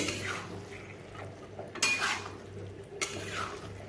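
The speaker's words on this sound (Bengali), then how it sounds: "খুব ভালোভাবে এটিকে আমি এখন কষিয়ে নেব" Bottle gourd and lentils being stir-fried in a pan: soft sizzling under occasional sharp clinks of a utensil against the pan, close and fairly quiet.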